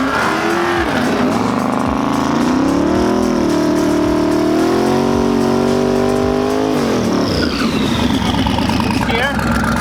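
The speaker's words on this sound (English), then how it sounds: "make sure it's in second when you do the burnout" A car engine revs hard through a burnout in second gear, a loud sustained roar that rises and holds at high pitch, then drops away as tire squeal takes over near the end.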